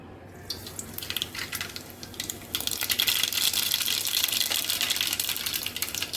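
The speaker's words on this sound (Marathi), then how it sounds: "तेल व्यवस्थित गरम झालं आहे की राई टाकूया" Mustard seeds dropped into hot oil, a soft hiss that swells into a loud, dense, steady crackling sizzle that carries on close by without talking.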